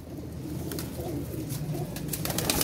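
Teddy pigeons coo in soft, repeated low throaty calls close by, layered over a steady background hum with occasional faint rustles, and no one speaking.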